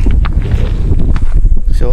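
Loud, gusty wind buffets the microphone, giving a heavy low rumble with brief rustles on top.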